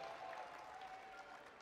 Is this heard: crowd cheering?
yes